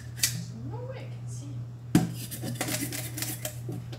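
Scales being scraped off a mangrove snapper in a kitchen sink make short rasping strokes and clinks, with a sharper knock near the middle and a voice speaking faintly underneath.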